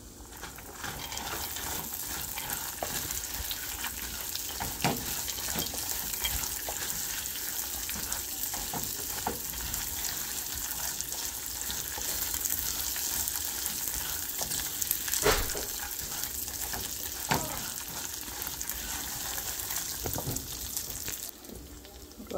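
Ingredients for South Indian lemon rice (chitranna) frying in a pan, a steady close sizzle with occasional stirring clinks and scrapes throughout, no talk.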